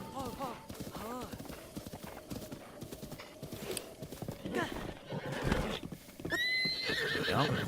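Horse hooves clip-clop steadily in Breath of the Wild, joined by a couple of neighs and whinnies, with someone talking over much of the sound.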